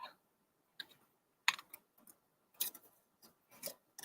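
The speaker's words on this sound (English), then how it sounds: "Right now I'm just going to cut straight across the top." Paper is cut straight across the top for a paper pumpkin card craft. Sparse, crisp snips and clicks come up close at uneven intervals, with quiet gaps between them and no talking.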